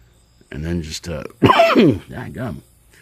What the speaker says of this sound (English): all of a sudden I'm coughing all over the place